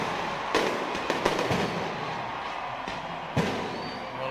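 Fireworks bursting over the Pacific Games 2023 opening ceremony, a steady crackling roar broken by several sharp, loud bangs at irregular intervals, with no voices.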